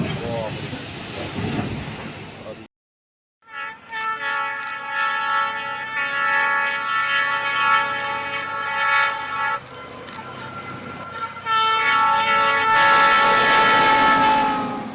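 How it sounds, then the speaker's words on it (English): A railplow train in Canada powers along the tracks with a loud sustained horn blast of several stacked tones, preceded by a noisy rushing passage and a brief silence, and the horn holds steady over rumbling, shifting in strength partway through. "watching a railplow train power through the tracks in Canada"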